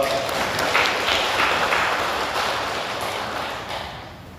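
Applause from the congregation at a Buddhist temple service, a steady wash of many hands clapping, fairly close and filling the room for several seconds without a break.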